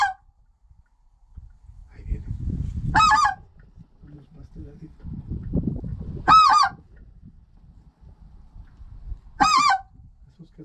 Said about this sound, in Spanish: Ahorita nomás estamos esperando que los gansos lleguen hacia nosotros